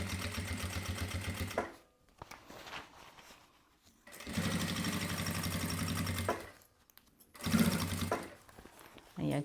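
Sewing machine topstitching fabric in bursts of rapid mechanical chatter, each a couple of seconds long, separated by pauses with quiet handling sounds, close and moderately loud.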